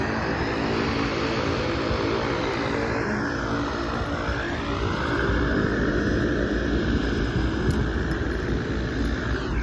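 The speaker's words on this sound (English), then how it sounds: "maybe if it wasn't for this plane engine in my ear" Airplane engine noise fills the cabin as a loud, continuous propeller-and-engine drone with a steady rumble and hiss, close and unbroken throughout, with no talking.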